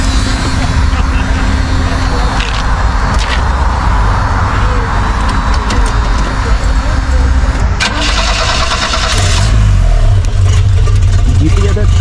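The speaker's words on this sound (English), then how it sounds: "Let me start it up for you." A 1973 Opel GT engine cranks, catches and settles into a running idle, loud and close from inside the car, with a steady low rumble that rises toward the end and people talking over it.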